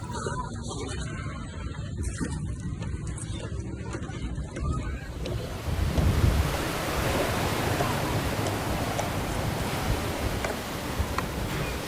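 A rushing river current makes a broad, steady roar of churning water that grows louder and fuller partway through, with wind buffeting the microphone.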